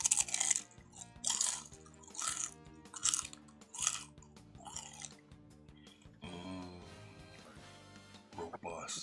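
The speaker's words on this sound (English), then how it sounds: "I'm eating sour cream and onion Miss Vicky's." Kettle-cooked sour cream and onion Miss Vicky's potato chips being chewed close to the mic in a series of crisp, rhythmic crunching bites, with someone talking briefly near the end.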